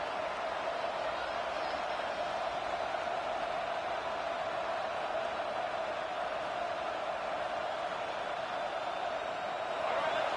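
Football stadium crowd during a college game, Aggies versus South Carolina, roaring steadily on a third-down defensive stand, a dense continuous wash of noise rising slightly at the end.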